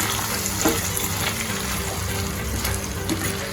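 Cabbage and potato curry mixed in a pan, heard as a dense, steady sizzle with occasional soft scraping strokes, close and continuous.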